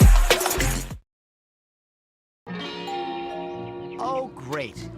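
A doorbell chimes after a short clatter and a silent gap, its ringing tones sounding clear and close with some wavering pitch at the end.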